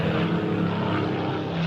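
Focke-Wulf propeller fighter planes approach from three-quarters behind, producing a steady, dense droning roar of aircraft engines that holds evenly throughout at moderate loudness.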